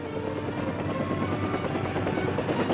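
U.S. Army helicopters of the 13th Aviation Battalion fly during the Vietnam War, a steady, loud rotor drone with a low thumping pulse, continuous and close throughout with no voices.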